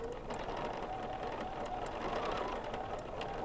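Free-motion quilting on a BERNINA sewing machine, a rapid, even mechanical chatter of the needle running continuously at close range with faint clicking gears underneath, no voice.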